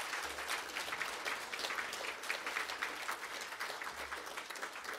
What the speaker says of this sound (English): I'd like to give them a round of applause for helping put this on.